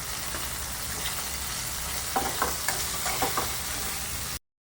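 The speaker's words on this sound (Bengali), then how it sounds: "আমাদের ফুলকপিটা প্রায় ভাজা হয়ে এসছে, অল্প করেই ভাজলাম।" Cauliflower florets fry in a pan with a steady close sizzle, and a few sharp clicks of stirring rise above it in the second half before the sound cuts off.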